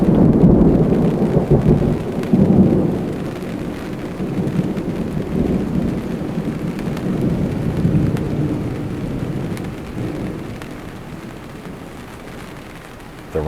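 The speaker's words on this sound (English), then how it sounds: "The rain is starting to fall." A heavy, low rumble of thunder rolls on and off for a while, with a soft wash of rain building underneath as a Florida summer storm begins.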